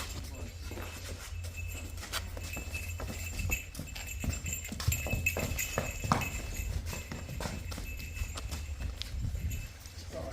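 Hooves clop irregularly on hard ground as Jersey cross cows walk, fairly faint against a low background rumble.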